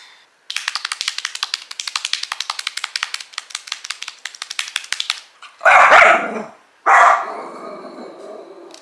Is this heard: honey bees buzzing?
no